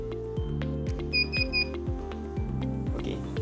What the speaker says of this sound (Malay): buzzer akan berbunyi dan dia akan memaparkan nilai suhu dan status suhu